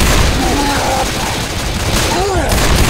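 Rapid gunfire aimed at the Tank in Left 4 Dead 2, a dense continuous burst of shots filling the whole stretch, loud and close, with faint voices beneath.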